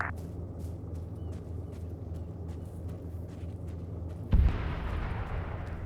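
Gunfire in a military video game, a run of sharp distant shots over a low rumbling background, then one loud close blast followed by a sustained hissing roar.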